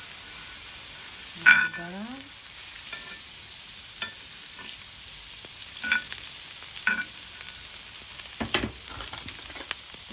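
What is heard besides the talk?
beef steak grilling and butter sizzling on a seasoning plate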